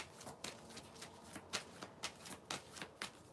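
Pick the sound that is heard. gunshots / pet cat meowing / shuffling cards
shuffling cards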